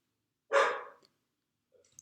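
A dog gives one short, sharp bark that rises quickly and fades within about half a second, surrounded by near silence with only a few faint clicks afterward.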